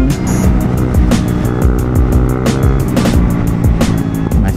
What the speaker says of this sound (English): now I feel like it's starting to sound like I have an exhaust leak